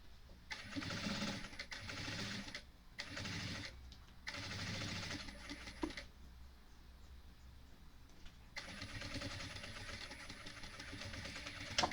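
A sewing machine topstitching a box-style bag runs in several steady, whirring bursts separated by short pauses, near and fairly loud, with the motor starting and stopping between stretches of stitching.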